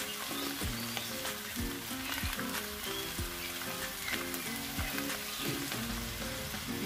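Sliced water spinach and boiled noodles fry in a wok with a dense crackling sizzle, punctuated by repeated knocks and scrapes of a spatula tossing the mix, nearby and continuous, no speech.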